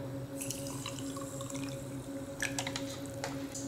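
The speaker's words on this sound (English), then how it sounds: "And now what I normally do is just pour in some warm water." Warm water is poured into a hydroponic nutrient mix containing Epsom salt, a soft, faint trickle and splash under a steady low hum of background noise.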